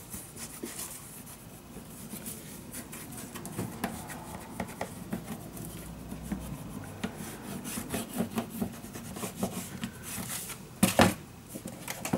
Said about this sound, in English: when I burnish this down nicely with my bone folder